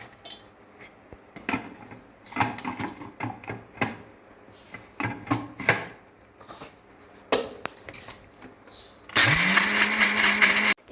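A kitchen mixer grinder whirs up loudly and steadily near the end, grinding ginger and garlic for a baby potato masala curry, after a run of clattering utensils, clinks and tapping.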